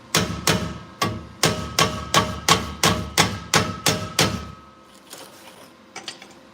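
A hammer taps a welded Ford Ranger exhaust pipe into place in a shop, about ten evenly spaced, ringing metallic blows, loud and close, followed by a few faint knocks.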